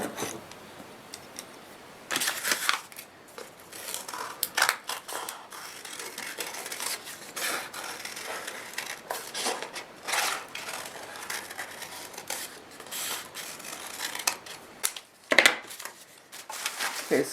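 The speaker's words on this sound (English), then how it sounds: "here we have a heart, and I'm going to cut that out" Scissors snip out a paper heart in a quiet indoor craft setting, a run of crisp, close cuts and paper rustles with a few louder snips, alone without talk.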